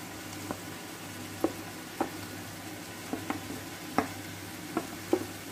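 Thinly sliced vegetables, onion, peppers and tomato, fry in a pan as a spatula stirs them, giving a steady low sizzle punctuated by regular clacks of utensil against the pan, no voices.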